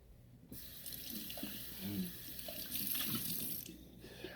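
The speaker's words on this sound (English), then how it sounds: "Make sure you wash the cup." A cup is washed under a running kitchen tap, where water switches on abruptly into a steady splashing stream with soft clinks of the cup, then cuts off near the end.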